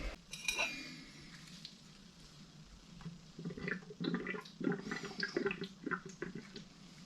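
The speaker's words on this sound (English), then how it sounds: "So let's drain the fluid" Fork fluid drains from a disassembled dirt bike front fork, a soft trickle and patter of oil with faint metallic clinks, quiet and close, with no voices.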